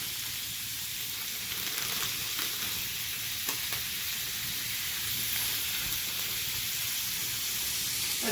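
Diced ham and sausage fry in a pan for an omelette, giving a steady, even sizzle with a soft hiss and a few faint clicks throughout.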